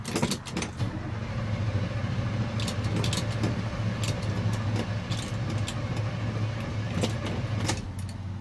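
A GMC 3500 truck cranks and struggles to start in warm weather, a low, uneven engine rumble with sharp clicks and clatters scattered throughout, fairly quiet and without talk.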